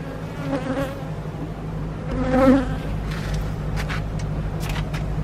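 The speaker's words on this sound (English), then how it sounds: "There are lots of bees around the edge of the box." Honeybees buzz loudly up close around a hive box, several droning tones swelling and fading as insects fly past, under a steady low background hum.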